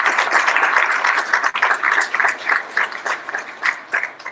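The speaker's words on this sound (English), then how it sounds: "So let's give them all a round of applause." Audience at a student business idea competition finals applauds the competitors, a crowd clapping that starts dense then thins into uneven, pulsing bursts as it winds down.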